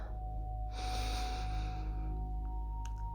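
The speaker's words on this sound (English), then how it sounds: "We're going to begin by very slowly just breathing." Slow, deep inhalation during a guided meditation, a single long breath swelling in after a quiet start and fading away, steady low hum beneath, with no talking.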